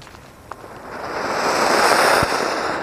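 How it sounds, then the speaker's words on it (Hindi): A colour fountain firework set off for Diwali cracker testing gives a small pop, then builds into a close, continuous hissing roar that swells and holds steady as it burns. "अब टेस्ट करते हैं इस कलर फाउंटेन का और देखते हैं ये कैसा चलता है।"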